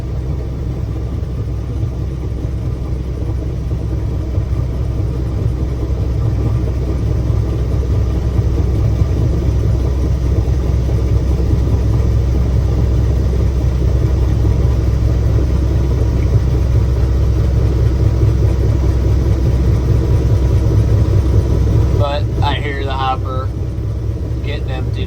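A farm truck's engine rumbles steadily and loudly at close range while it unloads soybean harvest, a low continuous drone that goes on for the whole stretch, with brief clatter near the end.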